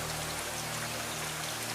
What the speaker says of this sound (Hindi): बाहर तेज बारिश हो रही है।